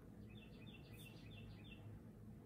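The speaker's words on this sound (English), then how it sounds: "You hear that fucking bird outside?" A bird chirps in quick, repeated high notes, faint and distant outdoors over a low background hum.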